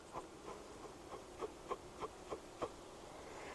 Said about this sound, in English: I'm going to blow these bees out of the way a little